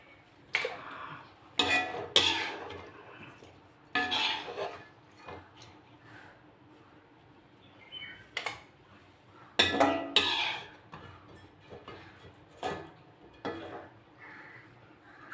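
Washed chicken pieces being put into a cooking pot by hand, heard as scattered loud clanks and knocks of metal with quieter rustling between them, close by and without talk.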